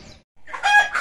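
Short, close rooster crow among free-ranging hens in a yard, a loud rising call after a brief silence, following a faint earlier sound.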